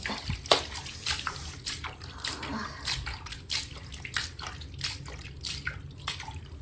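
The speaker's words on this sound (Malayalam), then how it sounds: "വെള്ളം ഒഴിക്കാം" Water pours and splashes in uneven bursts, with short gushes and drips close by over a low background rumble.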